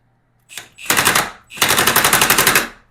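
An impact gun set to its lowest setting bumps the front sprocket nut of a Lifan KPT 400cc motorcycle, giving a short burst followed by two longer rapid hammering rattles, loud and close.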